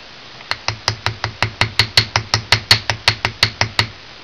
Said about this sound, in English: I'm going to hammer that a little bit because it'll be a little bit rough right there.